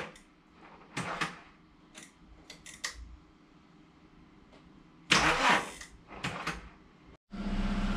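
A Skoda Octavia 1.9 TDI diesel, with a newly replaced injection pump and water pump, is cranked on a boost from a second car, giving scattered clicks and clunks and then a loud burst of cranking and a rough catch.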